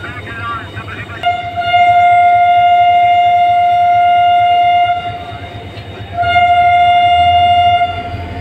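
Shah Latif Express pulled by HGMU-30R locomotive 8204 departing a small station, its loud steady horn sounding in two long blasts over a rumbling diesel engine and rolling stock.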